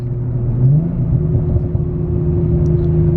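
A manual transmission car engine hums steadily from inside the cabin during a downshift into fourth, with a brief rise in pitch early on and then an even, sustained drone.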